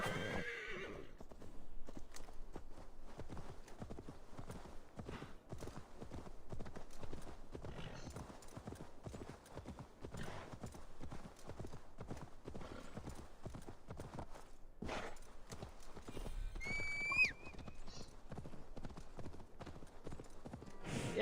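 Horse in the video game Assassin's Creed Valhalla trotting with steady, rhythmic clip-clop hoofbeats, then giving a clear whinny near the end, with occasional talking mixed in.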